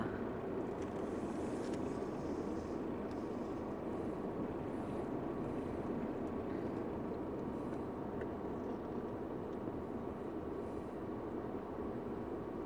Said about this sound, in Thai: ทางสร้างใหม่ รถก็กำลังวิ่งอยู่